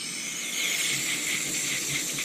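Close, continuous hissing aerosol spray into a snowblower carburetor's venturi, with a slight squealing edge, holding steady for a couple of seconds with no voices.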